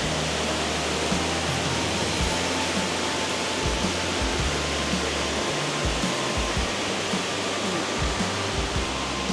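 Dai Chong Thong waterfall in Sangkhla Buri, Thailand, roars as a constant, dense rush of falling water, close and loud, filling the whole stretch with a steady broadband hiss and low rumble.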